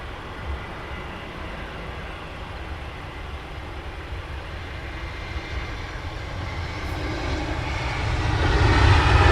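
Passenger jet aircraft taxiing at Luton Airport on an early morning, a steady engine roar that swells louder toward the end as the plane draws nearer, with no voices.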